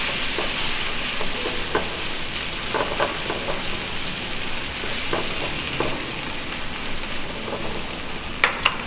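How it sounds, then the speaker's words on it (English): Eggs scramble in a hot frying pan on one side of a cauliflower fried rice, giving a steady close sizzle with scattered crackles and soft stirring scrapes, no voices. "I essentially just scramble eggs on one side of the pan."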